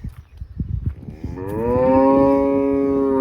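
A cow on a cattle farm lets out one long, loud moo that swells and holds for nearly two seconds, following some low shuffling and knocking sounds nearby.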